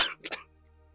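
A short, close cough, a quick burst followed by a double hack, then near silence.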